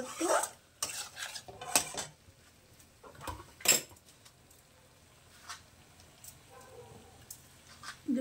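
Spoon stirring bean curry in a metal pan, scattered clinks and scrapes separated by quiet gaps, close and moderately loud.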